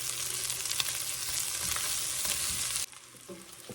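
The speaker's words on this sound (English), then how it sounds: "We're going to let that onion cook for a few minutes." Onions frying in a pan with ground beef and bacon for pinto beans give off a loud, steady, close sizzle that cuts off abruptly near the end, leaving only quieter crackles.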